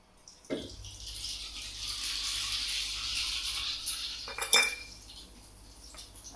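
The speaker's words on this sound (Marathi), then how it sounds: "मोहरी चांगली तळतळली बघा" Cumin and mustard seeds hit hot oil in a home kitchen, setting off a sudden close hiss and crackle that carries on for several seconds, with the clatter of utensils and a pan near the end.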